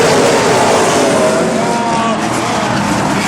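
Race cars roaring around the Snowball Derby short track, a loud, continuous blend of engines close by, with an announcer talking over it.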